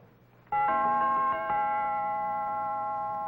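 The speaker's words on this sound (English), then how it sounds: "Real crazy chimes, man." A freshly repaired doorbell chime rings once with a bright struck tone, followed by a second strike, its ringing notes sustaining and slowly fading with no talk over them.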